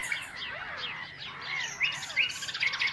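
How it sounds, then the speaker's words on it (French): Several small birds chirp and tweet in a busy, continuous outdoor chorus, the sparrow-like calls mixed with higher, more melodic song that could be a nightingale, fairly close and steady throughout. "chant harmonieux du rossignol, mais aussi au cri de la mouette et au piaillement des moineaux"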